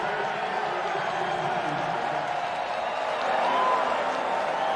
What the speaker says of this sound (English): They cheer now to see the Hilltopper punting unit for the first time today.